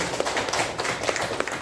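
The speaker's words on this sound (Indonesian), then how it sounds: "Tepuk tangan dulu Bapak Ibu." Scattered clapping from a seated audience of teachers at an Indonesian teacher literacy training session in Ketapang, West Kalimantan, a dense patter of hands lasting under two seconds with no voices.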